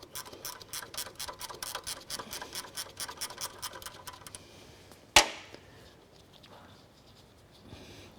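A ratchet wrench clicks in a rapid run while loosening the hydraulic pump's adjusting bracket, then stops, followed by one sharp metallic clank and near silence.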